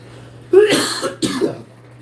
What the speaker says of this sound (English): that ice cream is making me cough